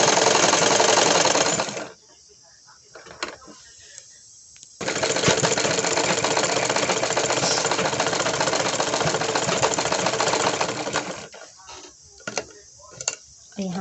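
A sewing machine stitches a woolen kurti in loud, steady runs of buzzing motor and needle, stopping for pauses in which someone speaks.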